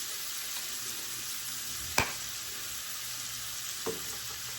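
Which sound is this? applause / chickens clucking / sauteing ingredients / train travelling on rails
sauteing ingredients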